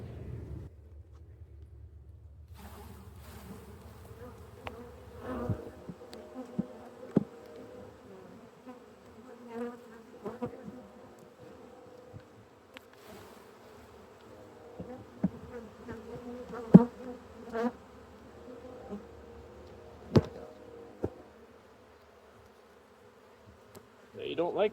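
Honeybees buzz steadily at close range during a hive inspection, a low droning hum with scattered clicks and handling knocks throughout and no speech.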